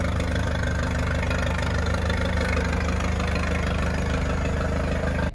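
A 1924 International Harvester Farmall Regular row-crop tractor engine runs steadily at idle, a loud, continuous low throbbing rumble with a faint knocking rhythm and no break.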